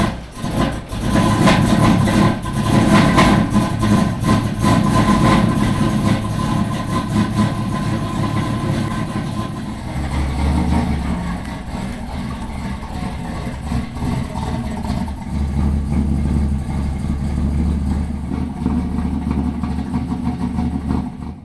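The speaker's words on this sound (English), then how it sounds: "We're going to end the video with beautiful engine sounds." A deep, rumbling small-block V8 engine in a Z28 Camaro with a new cam and heads idles steadily for a long stretch, with a heavy low-end burble and occasional slight rises in revs.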